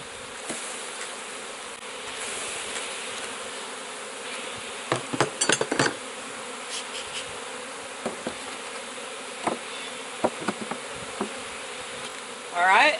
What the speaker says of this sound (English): Now I'm going to give it a couple extra frames of bees,